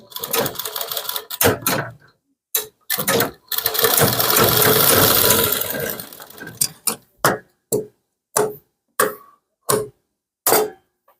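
A sewing machine stitches a kurti, close and loud, with one sustained run in the middle and many short, evenly spaced bursts of stitching before and after, separated by silence.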